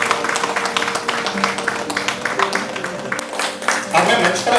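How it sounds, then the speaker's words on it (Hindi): Applause from a seated audience at a Hindi translation workshop in Dibrugarh, a steady wash of dense hand clapping through the whole stretch, with a voice speaking over it. "जोरदार तालियों से आपका अभिनंदन है महोदय।"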